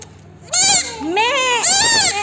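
A pet goat bleats in a few loud, wavering cries up close, with people chattering around it.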